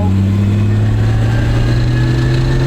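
Engine of a cheap military vehicle accelerating under throttle, a loud steady low drone with a rising tone, close by and without talk.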